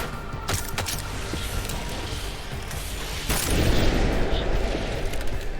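Gunfire in the video game Deus Ex: Mankind Divided: a few sharp shots near the start, then a denser, louder burst of booming fire from about the middle onward, with game ambience underneath.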